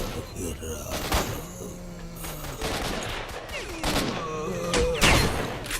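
Gunfire in S.T.A.L.K.E.R.: Shadow of Chernobyl, including a shotgun: four or five sharp shots spaced roughly a second apart over a busy bed of game noise, with tonal voice-like sounds woven between them.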